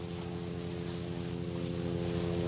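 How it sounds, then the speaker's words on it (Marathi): A helicopter passing overhead gives a steady, even engine and rotor drone at moderate loudness, with no talking. "हेलिकॉप्टर आला काय मग"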